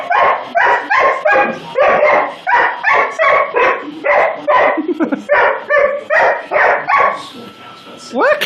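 A dog barks at a Roomba robot vacuum in a long, loud burst of rapid, close barks in quick succession, ending with a rising whine.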